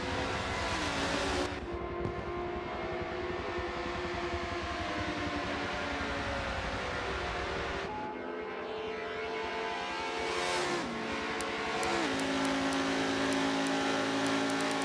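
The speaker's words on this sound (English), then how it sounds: "Now, onto the oval. Look at all these cars go." A pack of race cars roaring around an oval in a racing video game, engines whining and sweeping past with pitch shifts, a continuous loud drone with several passing cars.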